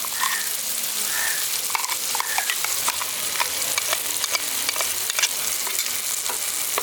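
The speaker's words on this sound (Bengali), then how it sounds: "এবার ভালো করে কষিয়ে নিচ্ছি" Spice paste of mustard, poppy seed and cashew for an okra curry fries in a pan, a soft continuous sizzle broken by repeated spoon scrapes and stirring taps.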